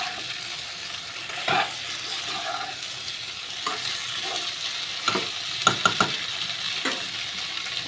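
Katla fish curry with potato and cauliflower sizzles and fries in a pan, with intermittent stirring scrapes and a few sharp utensil clinks close by.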